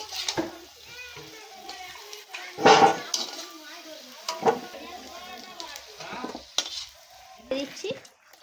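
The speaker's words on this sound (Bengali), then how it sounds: "আলুগুলো ভাজা হয়ে গেছে এবার আমি আলুগুলো তুলে নেব" Soft sizzling of potatoes frying in a wok-like pan, with occasional scraping and stirring clatter, a few sharper utensil knocks, and a voice speaking now and then.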